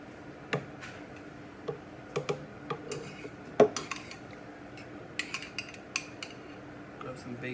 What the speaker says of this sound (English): I'm just going to give myself a couple of scoops here.